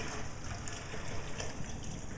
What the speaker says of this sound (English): So now I'll run this over to the sink and pour it out.